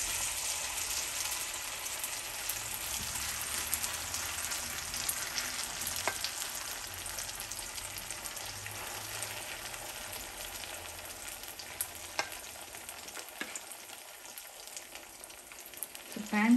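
Gujarati-style vegetable handvo batter with cauliflower and mustard seeds sizzles steadily in a hot pan, a soft continuous frying crackle heard close and fairly quiet throughout.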